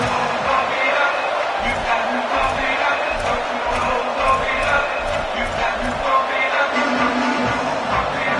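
A large college football stadium crowd roars continuously in the distance before kickoff, a dense, loud wash of cheering and shouting with a rhythmic pulse underneath.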